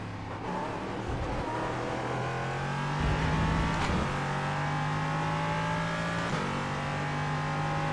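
A Porsche GT3 race car engine in the iRacing sim, droning steadily near and loud with rising revs and brief gear-change dips, no talk.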